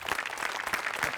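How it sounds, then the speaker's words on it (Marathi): A studio audience at a Marathi comedy show applauds a skit, a brief, fairly soft burst of many hands clapping together without a break. "गोस्वामींची संकल्पना आणि ऋषिकांत राऊतनी दोघांसाठी टाळ्या."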